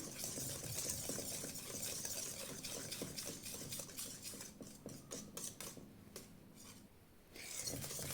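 Salt being stirred into a mayonnaise and strained yogurt mixture for Russian salad, a quiet steady wet scraping of a spoon around a bowl, faint and close, with no talking.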